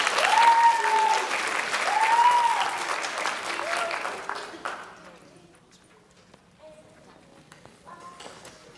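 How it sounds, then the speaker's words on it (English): A school audience at a middle school literacy event applauds its 6th grade participants. The clapping is loud at first, then thins and fades out after about five seconds, with a few faint voices and tones near the end. "Let's give all of our 6th grade participants one more round of applause."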